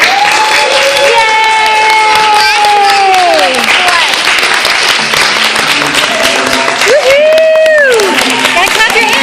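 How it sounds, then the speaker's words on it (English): Audience at a school play breaks into sustained, loud applause, steady clapping throughout with voices talking and singing over it. "Gotta clap your hands, Betty."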